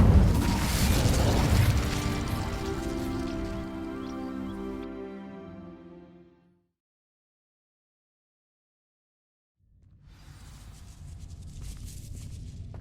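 In Hogwarts Legacy, an Incendio fire spell sets dry vines alight with a loud, close whooshing burst that fades away into silence over several seconds. Afterward, a fresh rumbling sound begins.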